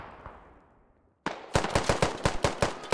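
Video game gunfire in SquadOps: a single shot fades out, a brief silence follows, then a rapid, loud burst of automatic fire sounds close by in a steady rhythm.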